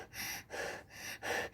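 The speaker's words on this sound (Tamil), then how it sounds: "எனக்கு ரொம்ப மூச்சு வாங்குதுடி" A person pants heavily and out of breath, four rhythmic rasping breaths in quick succession, close and fairly soft with no speech.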